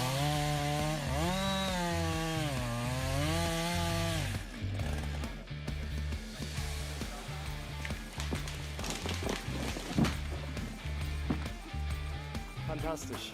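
A powerful chainsaw at full throttle cuts through wood, first a steady high revving whine, then a rougher pulsing bite as it works into the log, fairly quiet overall with voices talking over it.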